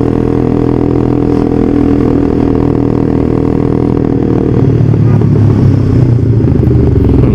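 Several touring motorcycles, one seemingly a Honda CBR 250, roll past with a steady mid-pitched engine drone that builds into a louder, rougher clatter toward the end, with no talking.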